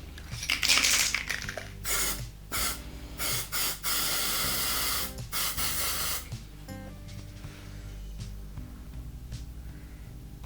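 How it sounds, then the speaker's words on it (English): Several sharp bursts of gold aerosol spray paint hissing close by into a small cup, short blasts in quick succession followed by a longer steady spray, then quieter background. "I will use the spray paint and I will spray it in this little cup"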